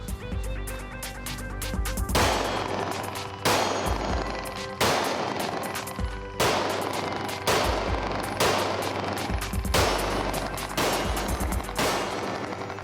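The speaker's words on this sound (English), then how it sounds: "Let's do 3 shots on all 3 targets." Rapid handgun shots fired in close bursts at three targets on a shooting range, loud and sharp, with repeated volleys separated by short pauses and no talking.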